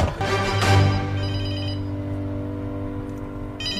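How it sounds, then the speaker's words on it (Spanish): A phone rings repeatedly in short electronic bursts, fairly close, over a humming background with faint musical tones. "¿Es tu teléfono? ¿Acaso no lo escuchas?"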